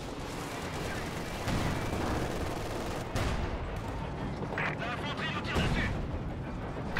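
Incoming fire in a real-time strategy video game match, a constant rumbling barrage of distant artillery thuds and rattling gunfire, loud and sustained, with a voice commentating over it.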